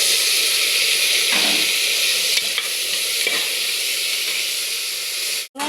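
Tomato sautéed with onions in a pan while cooking rice and lentils, giving a steady loud sizzle and frying hiss with a few stirring scrapes, which cuts off abruptly near the end.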